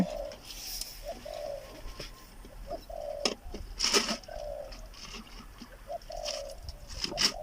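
Outdoors, a spotted dove gives repeated soft cooing calls in a bird-hunting setting where a decoy dove is used, the coos coming in a regular rhythm alongside occasional sharper chirps and rustles, fairly faint and at middle distance.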